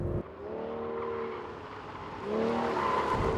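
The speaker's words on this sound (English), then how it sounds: "Now we begin the figure 8 test of the Aston Martin Vanquish." A 2014 Aston Martin Vanquish engine revs and drones while tires squeal through turns on a figure-eight test, the pitch rising and falling as the car accelerates through a tight loop.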